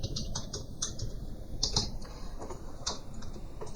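Quiet, close clicks of keys on a computer keyboard come in short irregular bursts while someone types a database command, with no talking.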